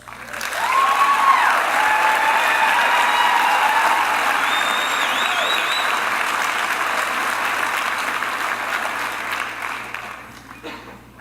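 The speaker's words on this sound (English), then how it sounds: "start off by giving yourself a big round of applause" Graduates at a college convocation ceremony give themselves a hearty round of applause, swelling fast into steady dense clapping with a few whistles and cheers, then tapering off near the end.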